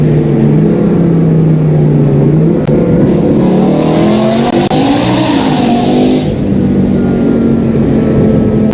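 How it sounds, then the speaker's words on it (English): A loud, high-pitched V10 engine in a BMW M3 E46 revs and accelerates continuously on the autobahn, its pitch climbing and dipping, close and dominant with no talking. "It sounds like a freaking race car, a V10 race car."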